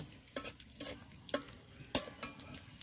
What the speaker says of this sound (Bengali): দিয়ে দেব গোটা শুকনো লঙ্কা, গোটা গরম মশলা, এলাচ, দারচিনি, লবঙ্গ। একটু ভালো করে ভেজে নেব